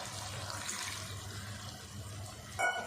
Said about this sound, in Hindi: थोड़ा सा हम और पानी डालेंगे, ज़्यादा नहीं डालेंगे, सिर्फ आधा कप।